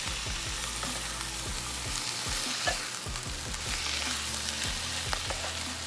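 Ground pork frying in a pan for Filipino hardinera, a steady close sizzle with repeated scraping strokes of a spatula stirring the meat, no voices.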